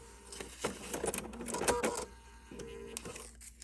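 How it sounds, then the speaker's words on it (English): Sewing machine stitching a small quilt block, a short whirring run of stitches with mechanical clicks and brief stops, close and moderately quiet. "let's stitch this one. I'm going to start a couple stitches before, flip across that, a couple stitches after"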